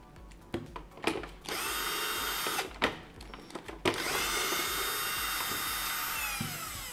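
A power drill drives screws in a series of short whirring bursts followed by one long sustained run, close and clear, with small clicks and taps between the bursts.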